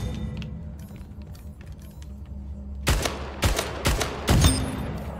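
Several loud gunshots ring out in Splitgate, the first after a stretch of low ambient rumble, then a quick string of four or five close, punchy blasts with short gaps between them.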